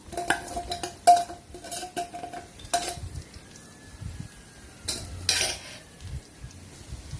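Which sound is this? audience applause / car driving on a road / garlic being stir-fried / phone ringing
garlic being stir-fried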